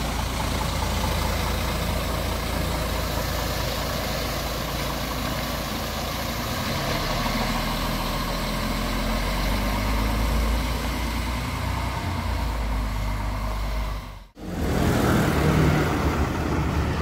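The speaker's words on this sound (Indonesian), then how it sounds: "Dengan mesin Mercedes-Benz OC500 RF 2542 by karoseri Laksana." Mercedes-Benz OC500 RF 2542 bus with Laksana coachwork idling, a steady low diesel rumble held near and continuous, briefly cutting out for a moment before resuming.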